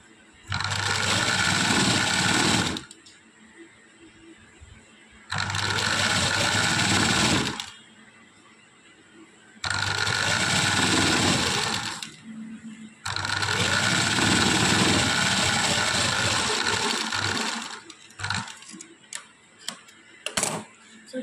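A sewing machine stitches folded piping in four long, steady bursts separated by pauses, loud and close, followed by a few short clicks and taps at the end.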